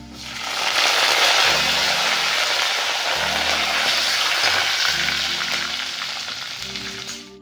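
Garlic and curry leaves fry steadily in hot oil, a dense, loud, continuous sizzle with faint crackles running throughout and tapering slightly at the end, with no voices.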